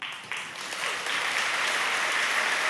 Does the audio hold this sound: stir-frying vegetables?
no